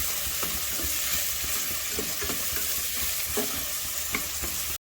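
Two medium onions sauté in a pan for a Naati Kozhi Kuzambu (country chicken curry), with a steady close sizzle and frying crackle broken by intermittent stirring scrapes, no voices.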